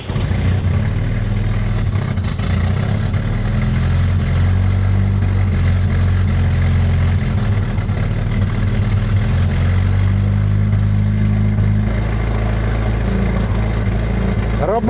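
A 1975 AZLK Moskvich 412 engine, left unused in a shed for years, runs steadily throughout at a loud close idle with a low rumbling drone and slight unevenness, without a distinct start.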